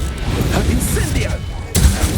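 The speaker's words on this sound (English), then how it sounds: "Incendio!" Incendio fire spell from Hogwarts Legacy, a sudden booming burst near the end following a stretch of game combat noise, with a voice speaking throughout.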